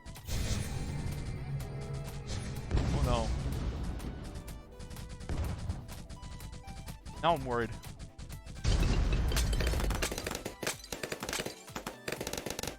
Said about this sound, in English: It's making the explosion sound.